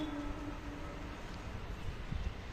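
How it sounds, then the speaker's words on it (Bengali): A train passing through foggy farmland, heard as a steady, distant broadband rumble with faint rolling clatter, no horn. "ওই ট্রেন যাচ্ছে"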